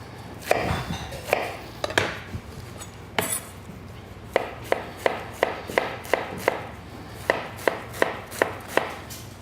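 Knife chopping by hand on a cutting board, cutting a chiffonade for bistro slaw: a run of crisp, sharp taps in a fairly even rhythm, heard close and alone after a few scattered cuts.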